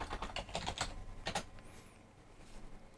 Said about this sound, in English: I start typing, and that's what happens